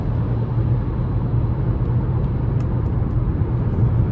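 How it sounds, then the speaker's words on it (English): Inside a 2026 Chevrolet Trax ACTIV 1.2T cruising on an interstate, a steady, even roar of wind and road noise fills the cabin without letup, moderately loud and with no voices. "the wind noise itself, not intrusive"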